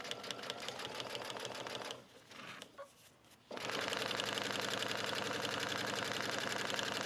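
A sewing machine with a walking foot stitches two fabric layers, a fast steady whirring rattle that runs, stops briefly with soft handling noise, then resumes at the same rapid pace, close and alone.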